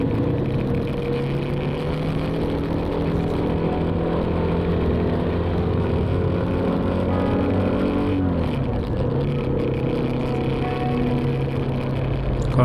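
Tourino 250DX motorcycle exhaust running steadily at close range, a constant droning engine note with a slight pitch dip partway through, no talking.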